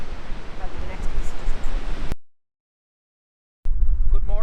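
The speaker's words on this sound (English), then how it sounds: "It's a little bit windy, so we hope you can hear us." Loud wind buffets the microphone outdoors at the Ceide Fields as a low, rumbling roar. It cuts out to silence briefly, then returns just as strong.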